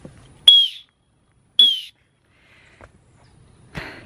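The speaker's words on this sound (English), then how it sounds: "this one has a little emergency whistle" Emergency whistle on a backpack chest strap, blown in two short, sharp, piercing blasts close by, separated by a brief pause, then fainter rustling afterward.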